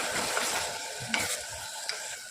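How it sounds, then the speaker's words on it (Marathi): Carrot halwa with sugar and cardamom powder being stirred in a pan: soft scraping and a faint simmering sizzle, with a few sharp spoon taps against the vessel and no talking. "आता आपण मिक्स करून घेऊया."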